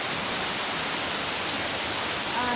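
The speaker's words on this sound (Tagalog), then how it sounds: "para makita nyo kung gaano kalakas yung ulan" Heavy rain pouring down in a dense, unbroken hiss, loud and close throughout with no voices over it.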